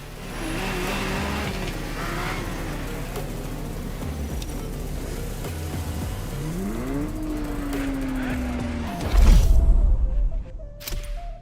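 Ferrari GTO engine in The Crew Motorfest racing game, a steady drone that climbs in a smooth rev sweep, then a heavy low burst and a final fade, with game effects layered over it.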